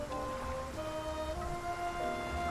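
Steady rain patters over a low ambient hum and faint tonal drones in the video game Face Noir, continuous and even throughout.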